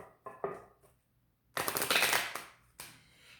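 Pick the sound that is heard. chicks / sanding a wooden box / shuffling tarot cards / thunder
shuffling tarot cards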